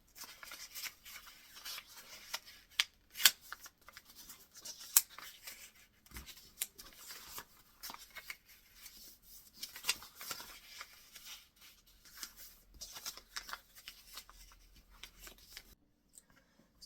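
Paper pages of a book being folded by hand for a beginner book folding project, giving soft crisp rustles and creases in a steady rhythm, close and quiet with no talking.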